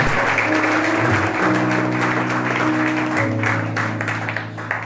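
Church congregation applauding a preacher's teaching, a loud, sustained wash of clapping with cheers and held organ or keyboard tones underneath, tapering slightly at the end.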